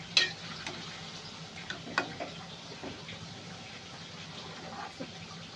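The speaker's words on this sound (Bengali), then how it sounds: "দেখুন এটা এরকম করে উল্টে পাল্টে লাল লাল করে ভেজে নিতে হবে।" Palm fruit fritters fry in oil with a soft, steady sizzle, broken by light clicks and taps of a utensil turning them, fairly quiet and close with no speech.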